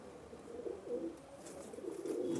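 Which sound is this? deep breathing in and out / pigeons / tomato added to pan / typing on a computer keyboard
pigeons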